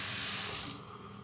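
Tap water running into a kitchen sink during rinsing, a steady close hiss and splash that cuts off near the end, leaving a softer trickle.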